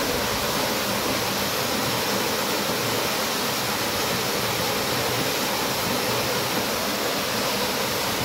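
Spring water on a village farm roars as it flows, a loud, dense and unbroken rush of water from close by, steady throughout with no voices.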